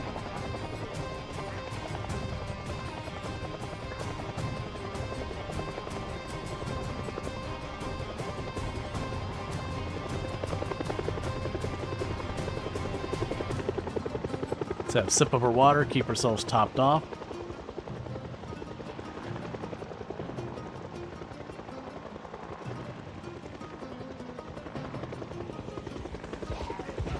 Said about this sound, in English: the helicopter's zipping